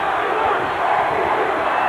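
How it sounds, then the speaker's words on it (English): A large outdoor crowd at the Chicago Bulls championship celebration in Grant Park chants MVP in unison, a loud, dense roar of voices filling the brief moment without pause. "Crowd chanting MVP"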